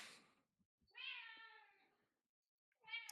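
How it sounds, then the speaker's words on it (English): A cat meows in the background indoors: one drawn-out meow and the start of a second, fairly soft and with no talking over it. "your cat's having a good meow in the background"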